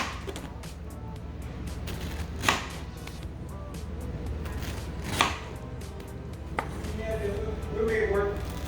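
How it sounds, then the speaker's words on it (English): A knife slicing through a fresh, juicy, homegrown pineapple on a board, with three sharp cutting knocks spaced a few seconds apart over a low steady background. "Now let's slice these up."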